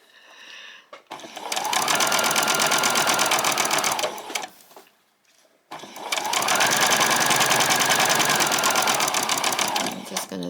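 Sewing machine stitching pajama bottoms in two long, loud, steady runs of rapid mechanical whirring, separated by a short pause, close up with no voice over it.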